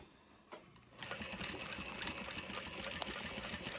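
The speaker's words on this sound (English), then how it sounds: "And then I reinforce the V. I back stitch at either side." A sewing machine back stitches the V of a handbag, starting with a short tap and then running as a steady, close, fast mechanical whir for several seconds, with no talking.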